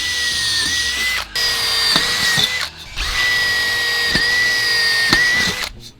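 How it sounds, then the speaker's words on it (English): Power drill pre-drilling holes into a wooden deck top rail: loud, close whining drill runs in three long bursts separated by short pauses, with no talking. "I like to pre-drill 4 holes into my top rail"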